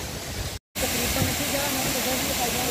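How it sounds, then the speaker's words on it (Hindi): Waterfall in the Neelam Valley with water plunging from a great height, a steady broadband roar filling the whole stretch, briefly cut off near the start, with faint voices underneath. "सही वाटरफॉल बड़ी खूबसूरत जगह है"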